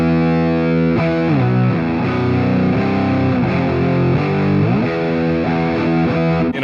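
Electric guitar played through a fuzz pedal, thick saturated chords and single-note bends ringing loud and sustained with no talking.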